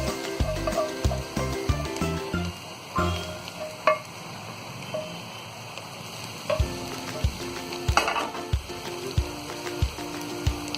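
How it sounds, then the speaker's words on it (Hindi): Grated carrots go into a heavy-bottomed pot of rice for carrot zarda and are stirred in, giving soft scraping, sizzling and clattering stir strokes with several sharper knocks, close and steady with no talking. "अब हम इसमें डाल देंगे ये गाजर,"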